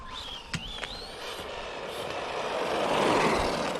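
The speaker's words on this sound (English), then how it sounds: "That screaming noise, I believe, is the differentials may need more grease or thicker." Whine from the differentials of an Omni Terminator roller RC truck whose diffs may be loose or short on grease: a thin, high whistle that climbs in pitch over a rushing mechanical roar, which swells louder toward the end, with no talk.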